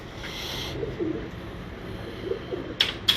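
Teddy-coloured breeder pigeons of a black bloodline giving soft low coos, a few murmured calls scattered across a quiet backdrop, close but gentle, with a couple of brief sharper noises near the end and no talk.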